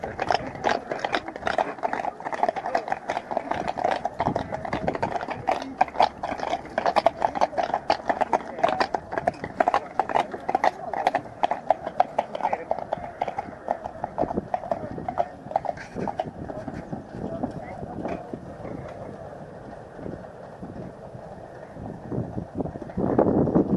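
Carriages pulled by horses arrive at Bommelstein castle in Nederhorst den Berg on Ascension Day, hooves clip-clopping in a dense, continuous rhythm from several animals, with wind noise on the microphone and no talk.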